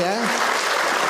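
An audience at a religious lecture applauds, a brief burst of dense clapping that swells right after a voice trails off at the start.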